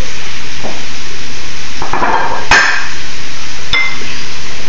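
Onions and celery sizzling in a pan for Thanksgiving stuffing, a constant hiss broken by a few sharp clinks and knocks of a utensil against the pan.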